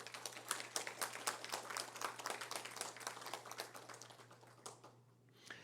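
Audience applause fills a municipal council chamber during a homage ceremony: dense, steady clapping from a sizeable crowd, close and lively, with a low constant hum beneath, thinning out and fading near the end.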